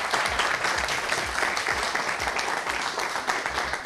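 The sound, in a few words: applause for the participants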